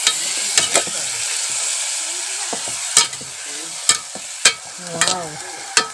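String beans being stirred in a frying pan, with steady sizzling throughout and sharp scraping clicks of the utensil at irregular intervals, close and loud, with no talking.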